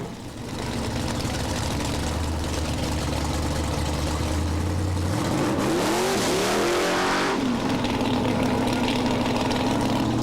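Pro Street drag racing cars at the Dieppe start line, including a yellow Corvette, rumble loudly at idle, then one engine revs hard in rising sweeps before settling back into a steady, close roar.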